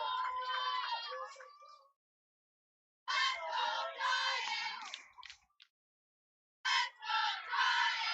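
A high school football crowd cheers after a long downfield pass, in loud bursts of shouting and whooping separated by short silent gaps.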